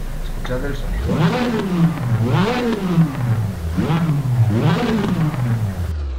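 A car engine in the racing game Assetto Corsa revs up and down in three rising-and-falling surges, loud and close, with a synthetic game-like tone.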